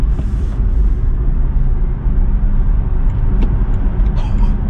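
A steady low rumble of a BMW i3 electric car accelerating at full throttle, smooth and continuous with no engine revving, heard from inside the cabin.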